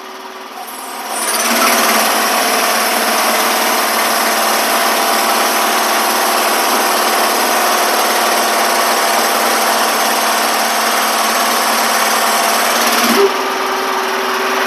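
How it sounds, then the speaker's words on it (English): A 2025 SD Lanch SL1200J mud buggy engine starts up and runs steadily at a loud, even drone while the bed is being dumped, holding constant before dropping slightly near the end. "so we'll start with dumping the bed."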